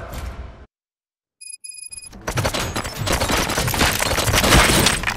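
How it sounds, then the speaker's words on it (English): Dense, sustained burst of gunfire in the RoboCop: Rogue City video game erupts after a short silence and a few electronic beeps, continuing loud and unbroken to the end. "Gunshots? What's going on?"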